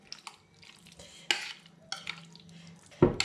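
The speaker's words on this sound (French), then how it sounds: "on va venir mélanger pour vraiment imprégner les concombres dans le fromage blanc" Cucumbers are stirred into fromage blanc with feta for tzatziki, giving soft, intermittent wet scraping and clinking strokes against a bowl, close and fairly quiet, with one louder knock near the end.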